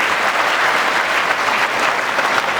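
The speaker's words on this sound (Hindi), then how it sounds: "इनके लिए जोरदार तालियां बजा दी जाए भाई" Loud, sustained applause from a crowd at a minority community mahapanchayat political gathering, dense continuous clapping filling the hall without any break.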